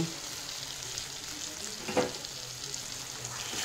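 Green chillies go into a frying spice mixture for chicken keema, giving a steady, quiet sizzle with one brief stir or clatter midway. No one speaks.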